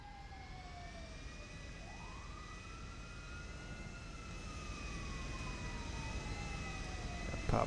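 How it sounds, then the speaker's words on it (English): A jet aircraft engine in a roleplay video game, a steady loud roar with rising and falling whine tones that build slightly louder toward the end. "Yeah, let's take the jet."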